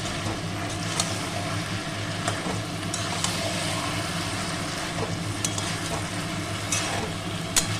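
Fried fish heads are stirred into simmering Malabar spinach chhenchra, producing a continuous low sizzle with occasional scraping and clinking of a utensil against the pan, close and without talking, over a faint steady hum.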